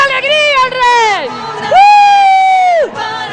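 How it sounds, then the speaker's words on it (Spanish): A church congregation shouts and cheers for joy together, a loud, sustained crowd roar with high drawn-out voices rising in two long swells. "¡Dale un grito de alegría al Rey!"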